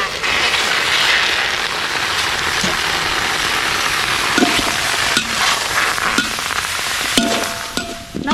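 Steady, loud sizzling of chicken frying in a hot pan, a continuous crackling hiss with occasional stirring clatter.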